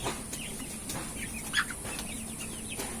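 Sonali chickens cluck and chirp in a hot poultry farm shed, faint scattered calls over a steady background hum, with one slightly louder cluck in the middle.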